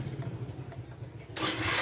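A Yamaha Mio i125 automatic scooter with a starter problem, whose engine fires up as soon as the key is switched on. A low, quiet hum gives way to a sudden, louder steady running noise near the end.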